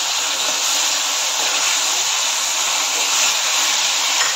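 Finely chopped cabbage and vegetables stir-fry in a hot wok for street-style noodles, a loud continuous sizzle and hiss that holds steady throughout with no voices.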